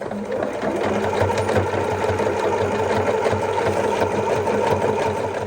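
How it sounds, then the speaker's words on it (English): A sewing machine runs a zigzag stitch across a fabric apron, a steady close whirring hum with a fast mechanical chatter that continues unbroken for several seconds. "I think I might actually do a zigzag stitch over this."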